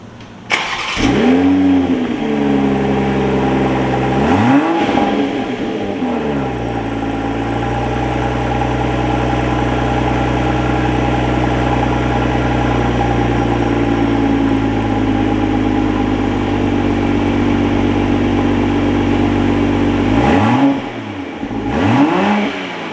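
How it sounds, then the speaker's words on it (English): A 2021 Toyota Supra on its stock exhaust, in normal and sport modes, revs repeatedly from idle, with loud close rising and falling engine sweeps at the start and end and a steady idle drone in between. "first thing we're gonna get the stock exhaust sound in normal and in sport"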